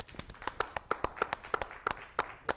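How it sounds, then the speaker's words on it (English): A small audience in a theater claps for a graduate, giving a quick, light run of separate hand claps at a moderate distance. "we're going to applaud for our graduates as we announce them"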